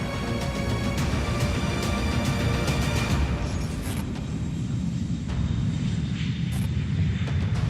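Air France airliner jet engines during takeoff, a loud, continuous roaring rush with a high whine that gradually fades and smooths, heard alone.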